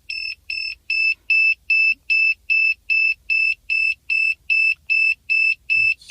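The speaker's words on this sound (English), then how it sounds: "beeping like crazy" DJI Mavic remote controller with a stick error beeping nonstop, a rapid, even series of about thirteen shrill electronic pulses, clear and alone in a quiet room.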